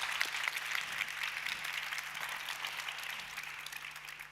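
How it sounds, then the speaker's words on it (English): Audience at a social media industry keynote panel on abuse, safety and well-being applauds the panel, a steady wash of many hands clapping throughout, moderately distant, with a faint low hum underneath. "Give them a warm applause."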